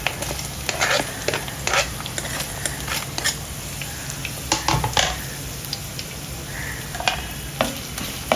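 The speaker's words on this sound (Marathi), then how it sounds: "त्याच्यामध्ये आपण कांदा टाकूया." Onion frying in hot oil for a tempering, a close sizzling hiss broken by bursts of crackle and stirring scrapes, with no talk.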